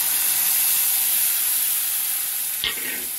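Spiced water of turmeric, chili, cumin and coriander poured onto fried spices in a hot pan, giving a loud, steady close-up sizzle and hiss that barely eases, with a brief clatter near the end.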